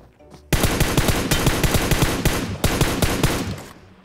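Rapid automatic gunfire in a PUBG-style battle royale game rattles out in loud, evenly spaced shots for about three seconds, with a brief break before a final burst, and no talk over it.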